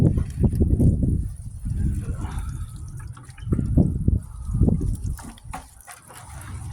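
Water gushes and splashes in uneven bursts as it is poured onto the soil around a newly planted blueberry bush, close and fairly loud, with brief pauses between pours.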